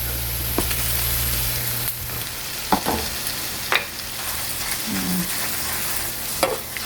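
Ground pork fries in a pan after browned garlic, producing a constant hiss of sizzling with occasional sharp clinks and scrapes of a utensil stirring.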